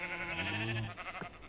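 A sheep in Minecraft bleats, one drawn-out nasal bleat up close followed by a short second cry, with no other sounds around it.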